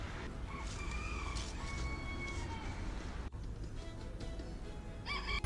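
A rooster crows from a distance over steady outdoor street noise in a Romanian town, two or three drawn-out calls rising faintly above the background rumble.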